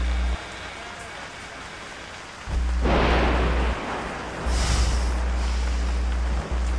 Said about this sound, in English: so it's pouring down rain.